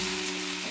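Garlic egg fried rice frying in a kadai over a high gas flame, giving a steady, close, continuous sizzle with a faint hum throughout and no talk.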